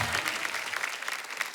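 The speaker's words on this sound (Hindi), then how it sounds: "जोरदार तालियां कृति के लिए।" A studio audience at a comedy talk show gives loud, dense applause that carries through the short moment, close and filling the room.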